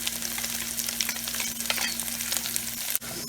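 Green chili paste made from eight green chilies, with ginger, garlic and onion, sizzles steadily in hot oil for a Malabar fish biryani, a close, continuous frying hiss with light stirring scrapes throughout.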